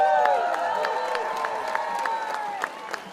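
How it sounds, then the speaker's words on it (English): Crowd at an outdoor hospital-cuts protest clapping in a steady, dense round of applause, fairly close, with a tonal sound ringing through it and faint voices in the background. "please give a round of applause"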